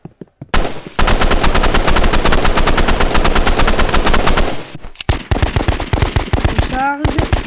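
Rapid automatic gunfire and explosive rocket launcher blasts in a Roblox shooter game, a long dense burst of loud shots followed by scattered bursts and a rising whoosh, with a voice talking in between.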